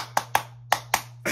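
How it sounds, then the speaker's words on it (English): A crowd does a sharp, rhythmic football-style clap in a music video: five crisp, loud claps in a quick, even pattern, alone with no voices. "Why y'all do the football clap?"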